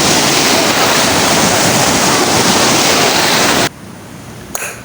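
Ocean waves at a seaside resort in Bicutan wash in as a loud, steady roar of surf for several seconds, then cut off abruptly to quiet background with a faint brief sound near the end.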